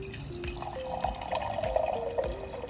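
Water running from a hot and cold water dispenser in a villa in Canggu, Bali, a steady trickling pour with faint drips, close and continuous with no voices.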